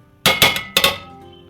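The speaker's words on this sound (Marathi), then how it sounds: "व्यवस्थित असं ढवळून घ्यायचं आहे" A metal spoon strikes a pan while semolina (rava) roasts for sheera: two sharp pairs of bright clanks ring out close up, then decay into quiet.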